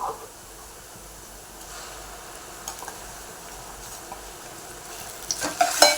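Onion and ground masala paste sautéing in oil for an egg curry, a soft steady sizzle with stirring, growing louder with scraping spoon clinks near the end.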